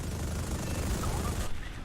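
In War Thunder, a Mitsubishi T-2 jet fires its cannon as a dense, roaring burst of rapid fire that fills the sound and cuts off sharply near the end, with a voice faintly underneath.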